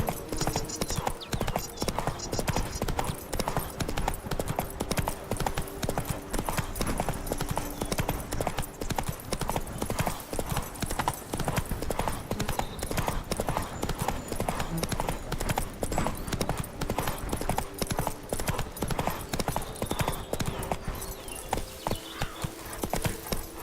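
Roach's hooves beat a steady, continuous clip-clop as the horse is ridden in The Witcher 3, a close, even rhythm throughout.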